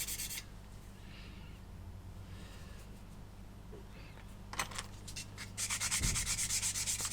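Acrylic paint being sanded off a plastic model surface, soft close rubbing strokes throughout, growing brisker and louder near the end.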